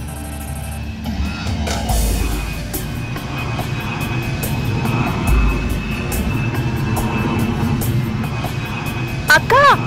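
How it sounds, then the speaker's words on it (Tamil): An airplane flies overhead with a broad, rising drone of its engines, while people talk and other background sounds come and go. "அக்கா, ஏரோப்ளேன் போகுது."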